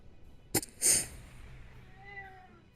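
A cat named Kitsune gives a soft, faint meow late in the moment, following a sharp close click and a brief breathy burst, over a quiet room background; no speech.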